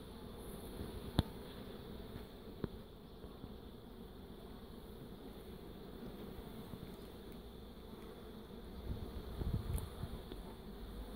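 Carnica honeybees hum around their hive in a soft, continuous buzzing drone, faint and steady, with a couple of sharp clicks and a slight swell near the end.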